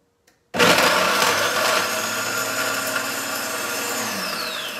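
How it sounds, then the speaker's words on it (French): A food processor running on turbo to chop coarse pieces of parmesan roars up abruptly after a brief silence and keeps whirring loudly and steadily, its pitch shifting slightly as the cheese breaks down. "Je mets ça dans mon robot et je vais sur turbo."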